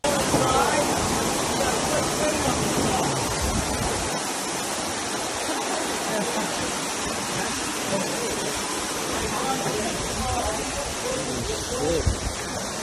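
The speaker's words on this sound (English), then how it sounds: "came cascading down from deck 15 onto the Central Park area in the center of the ship, resulting in a very unexpected waterfall" Pool water pours in a heavy, continuous roaring cascade from deck 15 down into the Central Park area aboard the Royal Caribbean cruise ship Harmony of the Seas, loud and steady throughout with faint crowd murmur beneath.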